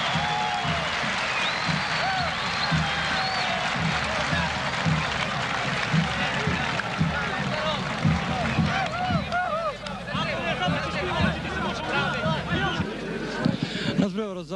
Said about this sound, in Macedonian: а фудбалите на победа со громогласни аплаузи